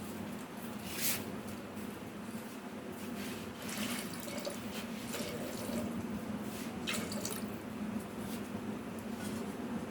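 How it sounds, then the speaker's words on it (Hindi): A little more water trickles into a pan of jaggery syrup, a soft, steady running flow with scattered drips and light splashes throughout, fairly quiet and with no speech. "थोड़ा सा हल्का सा पानी मैं और डालूंगी।"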